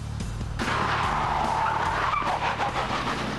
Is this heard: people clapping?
no